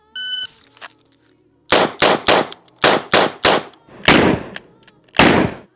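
A Smith & Wesson 586 L-Comp revolver fires .38 rounds: seven sharp, loud reports in a quick irregular string, a pause, then one more shot, with a short beep and faint noise before the first.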